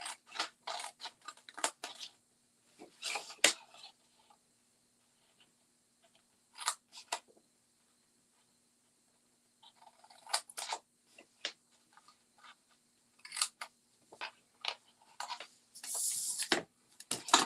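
Scissors cutting through a stack of fabric for a Green & Gold stack, cut and shuffle quilt, with bursts of crisp snipping and crunching separated by quiet pauses, close up and with no talking.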